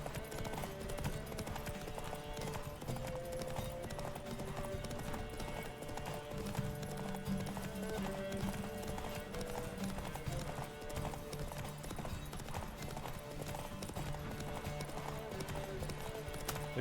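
Roach, Geralt's horse in The Witcher 3: Wild Hunt, gallops in a steady, rapid clip-clop rhythm throughout, hooves loud and continuous over game music, with a brief whinny and some in-game talk mixed in.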